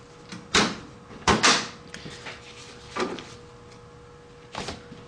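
Metal cabinet door of an F40 radio transmitter being handled, giving several close clunks and knocks spread over a few seconds above a steady electrical hum, with no talking.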